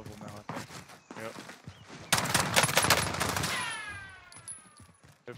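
Rapid automatic gunfire from hip-firing a weapon in Call of Duty: Modern Warfare Warzone, a dense burst of shots in the middle of the clip, with players talking over the action before and after.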